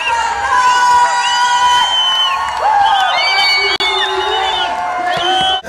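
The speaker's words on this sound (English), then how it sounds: "The crowd is bananas. The kids are mad" A crowd of children at a concert venue in Sweden before the show, loud shrieks, whoops and rising cheers layered over one another, continuous and close, with a brief dip partway through.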